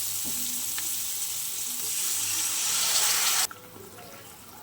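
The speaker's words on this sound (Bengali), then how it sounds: "এবার আমি অল্প জল দিয়ে দেবো।" Water splashes into a hot pan of frying rohu fish and eggplant curry, giving a loud, steady hiss and sizzle for about three seconds that cuts off abruptly into a quieter simmer.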